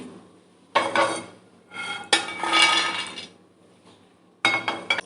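Roasted makhana (fox nuts) tipped from a pan into a dish, making light rattling clinks and scrapes in three bursts separated by short pauses, close by with no talking.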